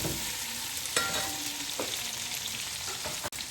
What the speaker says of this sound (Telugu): ఇప్పుడు కరివేపాకు ఇప్పుడు వేసేసుకుందాం. అది కూడా దీనిలో కలిపి ఫ్రై చేద్దాం.